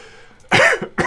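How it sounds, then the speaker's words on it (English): A person with a lingering cough that won't clear coughs twice during a live computer-work session: one long, loud rasping cough followed by a shorter one, close up. "Still got this stupid little cough I can't get rid of."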